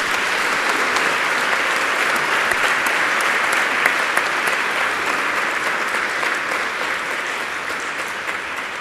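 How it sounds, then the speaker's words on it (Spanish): An audience at a dialogue on freedom of conscience in the former National Congress building in Santiago applauds steadily and loudly, a sustained even roar of clapping with no talk over it. "Demos un aplauso"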